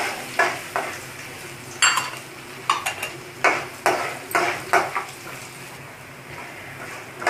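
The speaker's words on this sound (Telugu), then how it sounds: "పల్లీలు కొద్దిగా వేగిన తర్వాత ఇప్పుడు దీంట్లో అల్లం ముక్కలు వేసుకుందాం." Peanuts and ginger pieces fry in a pan for Andhra-style lemon rice, with a low sizzle broken by repeated, irregular scraping and clattering bursts from stirring, fairly close and moderately loud.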